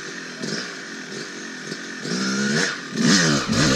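A trials motorcycle engine revs steadily nearby, its buzzing drone rising and falling in pitch through a few throttle blips and climbing louder toward the end, with no talking over it.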